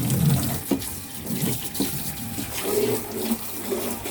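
Tap water runs steadily into a sink while a salvaged item and its racks are washed with shampoo, with splashing and occasional clunks of handling close by.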